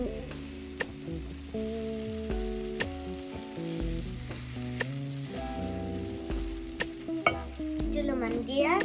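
Semolina roasts in desi ghee in a pan with continuous soft frying sizzle and repeated scraping stirs, spoon clicks punctuating the texture, under a background of tonal music.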